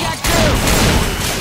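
A burst of gunfire in the video game Left 4 Dead 2, loud and dense, a rapid volley of shots that goes on for over a second after a brief quieter start.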